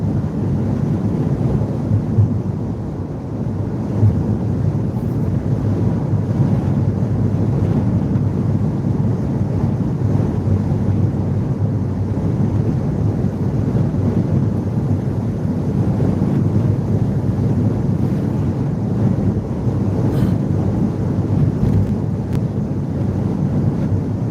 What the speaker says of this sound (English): I know it's pretty windy out here.